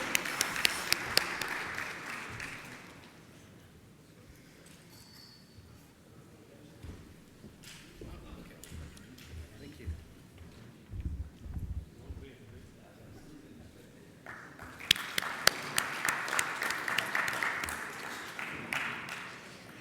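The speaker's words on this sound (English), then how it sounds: "Big round of applause to Dave." An audience applauds at a business conference in the Middle East, a burst of clapping at the start and a stronger one near the end, with quieter talk, thumps and room noise between.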